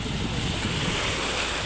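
Ocean waves at Kozhikode beach wash in as a steady, broad roar mixed with wind buffeting the microphone, continuous and fairly loud with no distinct breaks.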